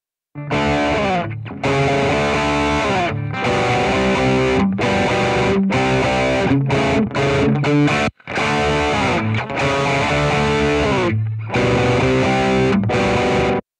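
Heavily distorted electric guitar through BOSS GT-1000 amp modelling, loud chugging chords and sustained notes played in bursts with short silent breaks between phrases.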